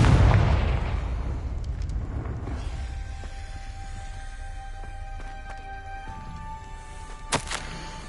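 A Confringo blasting spell in the video game Hogwarts Legacy lets out one loud explosive boom that fades into a low rumble, followed by quieter game tones and a small pop near the end.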